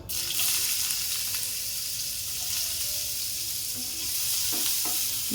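Chopped onion fries in white oil in a wok for homemade pizza sauce, a bright continuous sizzle with occasional stirring scrapes near the end.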